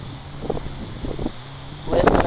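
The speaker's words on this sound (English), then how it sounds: "Listen to that wind." Wind rushes past a WLtoys Q333 brushed quadcopter drone in flight outdoors, a steady broadband roar with gusts that swell louder toward the end, with a voice speaking briefly under it.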